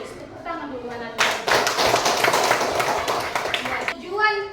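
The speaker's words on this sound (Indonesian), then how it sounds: "Tepuk tangan dulu anak-anak." Schoolchildren in a primary classroom break into rapid, dense hand clapping that fills most of the span, framed by a voice speaking at the start and again at the end.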